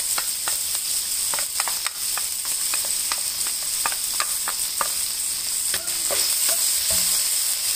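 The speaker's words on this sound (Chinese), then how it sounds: "好，差不多断生了，倒入三个酱" Three mixed sauces go into a sizzling wok, where a constant oily hiss runs under frequent sharp scrapes and clicks of a spatula stirring, close and without speech.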